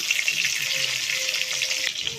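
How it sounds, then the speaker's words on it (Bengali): Pointed gourd pieces with turmeric fry in hot oil, giving a steady, close, continuous sizzle with small crackles throughout. "পটলগুলো একটু লাল লাল করে ভেজে নেব"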